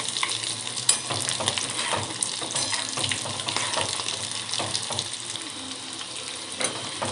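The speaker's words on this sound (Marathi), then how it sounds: "आपल्याला आता हे खरपूस रंगावर तळून घ्यायचे आहेत" Roll samosas deep-fry in hot oil until golden brown, giving a steady, close sizzling and crackling that continues without a break, with no talking over it.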